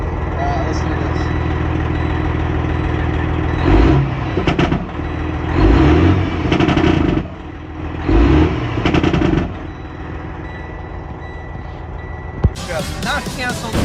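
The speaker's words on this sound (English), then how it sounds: "We got engine brake on." Freightliner Cascadia with a Detroit Series 60 engine, Jake brake engaged, several loud, rapid staccato bursts of engine-brake chatter over a constant truck engine drone, near and prominent.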